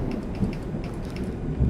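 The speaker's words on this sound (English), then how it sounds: "I love the sound like the thunder makes when it's like rolling across the sky" Steady rain ambience with low, rolling thunder rumbling beneath it, a continuous dense wash of falling drops with deep swells rising and fading across the sky.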